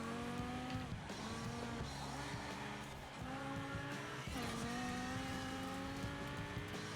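A Lamborghini Huracan in the racing game Forza Horizon 4 revs hard through repeated gear shifts, its engine rising and falling in waves with tire squeal mixed in, loud and continuous.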